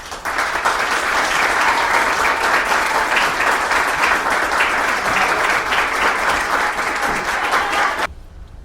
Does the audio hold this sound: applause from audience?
yes